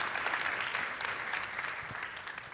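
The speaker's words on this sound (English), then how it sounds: "Let's give him a big round of applause." Audience applause at a NEXAFEST 2025 event, a dense, steady wash of clapping from a full room that holds evenly across the whole stretch, with faint voices mixed underneath.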